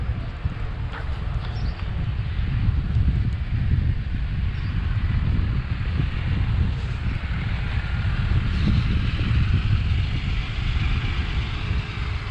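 Steady wind buffeting the microphone from a car driving toward Waimea Town, a constant low rumble with engine and road noise underneath, loud and unbroken throughout, no one speaking.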